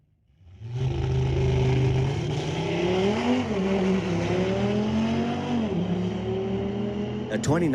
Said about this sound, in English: A 2019 Audi has a nice sound to it.